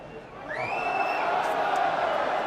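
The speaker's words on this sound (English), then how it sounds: "Crowd shouting for a forward pass" Rugby stadium crowd at an Ulster Rugby versus Harlequins Champions Cup match swelling into a loud shout, calling for a forward pass, with a rising whistle-like cry over the roar.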